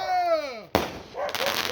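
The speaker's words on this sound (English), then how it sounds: "All the fireworks to blast off" Fireworks going off on the Fourth of July: a rising whistle sweeps down, then a sharp bang bursts out, followed by crackling, sizzling noise that trails off, heard from close by.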